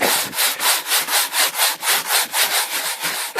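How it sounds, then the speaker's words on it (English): A hard-bristle deck brush scrubs a sailboat deck in fast, regular back-and-forth strokes, a loud, close, rhythmic scratching swish repeating about four times a second with nothing else heard. "But this is a fairly hard bristle deck brush, and I'm just going to go at it."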